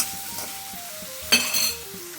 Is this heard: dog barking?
no